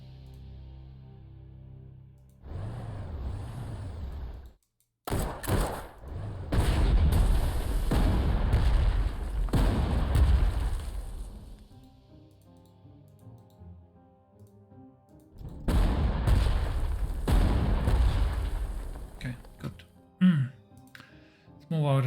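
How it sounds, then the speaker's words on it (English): Artillery batteries in Panzer Corps 2 fire together as a series of deep, booming blasts spread across several seconds, with someone talking over parts of the barrage. "move our artillery forward. They're quite impressive when they fire all together."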